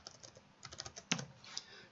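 A command is typed on a computer keyboard in a quick run of light, clicky keystrokes, ending in one firmer key press like Enter, close and with no talk.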